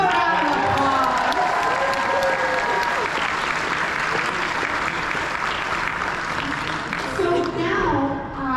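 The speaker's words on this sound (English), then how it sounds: "Give him a round of applause." An audience at a Team Arrow fan convention panel at MegaCon gives a loud, sustained round of applause with some cheering mixed in, filling the room evenly from start to finish.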